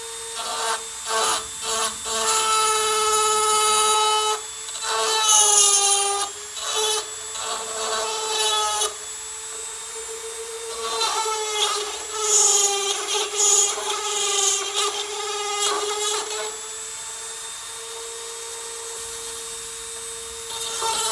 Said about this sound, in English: this little Dremel tool here. And it cuts the skin very fast.